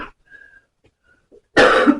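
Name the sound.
coughing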